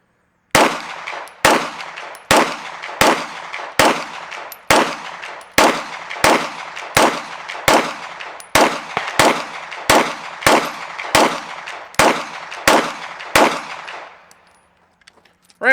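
A pistol empties an 18-round magazine in a steady string of sharp, loud shots spaced under a second apart. Each crack rings out with a short echo, and the last shot is followed by quiet.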